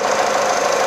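The engine of a used sedan with about 100,000 km on it runs steadily, a loud, close, even mechanical hum and whir with no breaks or variation in level.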